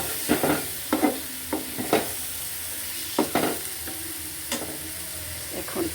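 Prawns stir-fried in a pan for a dish with taro stolons, a soft steady sizzle under repeated sharp spatula scrapes and knocks, about a dozen strokes in an uneven rhythm, close and fairly quiet.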